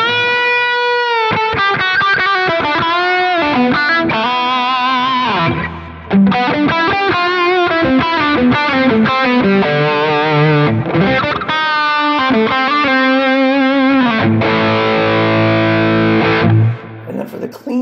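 An electric guitar plays a lead through a Quad Cortex preset with added gain and high end, a distorted, sustained melodic line of bends and held notes that runs continuously and loud.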